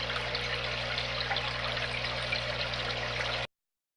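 A MaxiJet pump pushes a steady, continuous rush and trickle of water across a 55-gallon cichlid aquarium, close and even for several seconds before cutting off abruptly.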